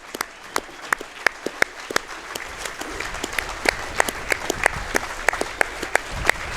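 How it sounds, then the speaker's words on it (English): A stadium crowd at a football testimonial match gives a thin, scattered round of applause as substituted players leave, individual claps ringing out sharply and unevenly amid open-air ambience. "And a round of applause for Gallagher and Robbo."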